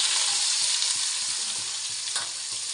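Onions frying in a little oil in a kadai, sizzling steadily and close with a dense hiss and a few faint stirring knocks, no voices.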